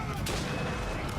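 Video game gunfire in a fort battle: a dense, loud burst of shots that runs continuously through the moment, with sharp cracks near the start and end and speech mixed in underneath.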